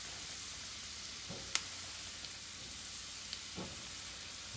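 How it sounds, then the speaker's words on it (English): Onions sweating with pepper in a pan over a lowered flame, giving a steady close sizzle with a few faint clicks and stirring taps throughout. "Allow these onions to cook."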